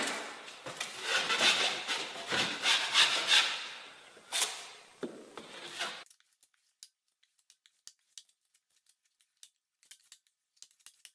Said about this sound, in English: when I'm cleaning off my edges, you'll notice I'm putting the pressure on this side of the knife